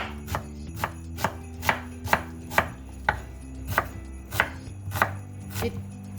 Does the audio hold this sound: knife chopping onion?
yes